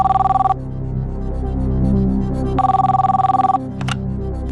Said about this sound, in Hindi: कबीर जी सूर्यकांत गायकवाड़ जी को पारतूर में फोन लगाया जाए